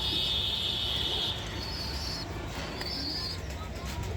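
Pigeons coo faintly against a quiet background, with a few higher bird calls rising over the soft, low cooing.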